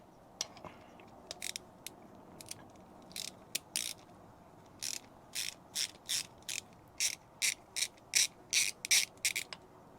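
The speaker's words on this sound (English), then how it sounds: "So we've got to go in here and remove the nut. I've got an 8mm socket." A ratchet wrench with an 8mm socket loosens a nut on a Dellorto 48mm DHLA carburetor, giving close, crisp clicking bursts that start sparse and irregular, then settle into a steady run of evenly spaced ratcheting strokes.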